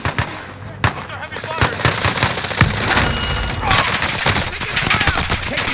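Rapid gunfire fills a Warzone video game match, dense overlapping bursts and shots cracking almost nonstop at close range. Player voices are faintly mixed in.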